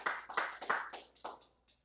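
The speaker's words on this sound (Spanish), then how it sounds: "Denle un aplauso a la sangre de Jesús, por favor." Small church congregation clapping in a short burst of several claps that quickly thins out and fades.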